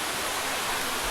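Close and loud, a forest waterfall pours in a constant, dense broadband rush of falling water with no voices over it.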